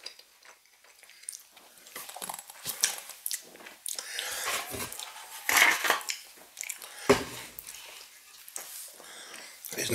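Someone chews a bite of steak pie close up, making irregular moist bites and soft crunches spread over several seconds, with small cutlery clinks in a quiet room.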